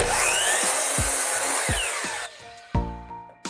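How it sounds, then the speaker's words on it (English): A bandsaw cuts wood in a workshop, a loud steady whine and rasp with a few thumps. The machine then winds down into a fading hum and ends with a sharp knock. "I'm gonna have to run to the bandsaw for 3 cuts real quick"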